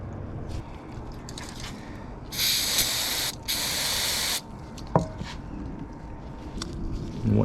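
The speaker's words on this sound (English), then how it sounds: "Nice liberal spray of carby cleaner." Two steady bursts of hissing carburetor cleaner spray on a Stihl line trimmer, each lasting about a second, close to the microphone, with some clinks and handling noise around them.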